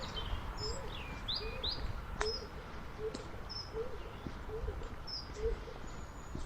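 Small birds sing in a quiet ravine near the coast at Filey, with repeated short chirps and whistled phrases spread across the clip, fairly faint over a low steady background rumble.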